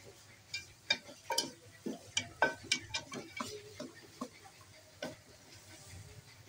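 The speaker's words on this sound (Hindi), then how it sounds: "दलिए को अच्छी तरह से मिक्स करके मसाले में भून लेंगे।" Broken wheat is stirred and roasted in a pan of fried masala for chicken dalia, giving a steady run of close scraping and ticking spoon strokes over a faint sizzle.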